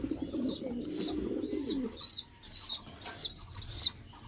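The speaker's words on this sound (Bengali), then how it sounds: "সুন্দর আছে কবুতরগুলো, যাদের প্রয়োজন লাহোরি সিরাজি অনেক আছে ভাইয়ের কাছে।" Lahori Shirazi pigeons at a fancy pigeon farm: a flurry of wing flapping for the first couple of seconds, then repeated soft, throaty cooing from nearby birds.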